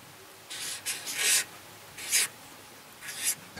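A pen scratches across paper in a few short, quiet strokes with small pauses between them, a soft dry rasp in an otherwise quiet room.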